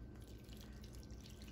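A vinegar mixture poured over shredded cabbage and red pepper for a summer coleslaw gives a soft, steady wet trickle and drip, quiet and close with no talking.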